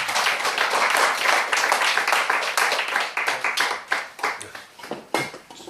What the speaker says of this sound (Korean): 저희가 정말 박수를 한번 쳤으면 좋겠습니다